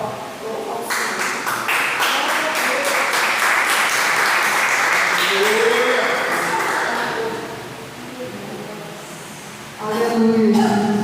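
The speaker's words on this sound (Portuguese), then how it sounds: "Eu agradeço a oportunidade das palmas." Congregation at a healing and deliverance church service claps loudly and continuously, the applause fading in the middle before swelling again, with faint voices around it.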